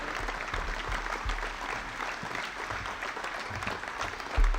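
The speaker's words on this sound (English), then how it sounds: "How about a big round of applause for Rick from both the Musketeer and Big Green fans." Basketball fans in a school gym applauding, a steady roar of clapping from a large crowd filling the room, even and sustained with a brief louder thump near the end.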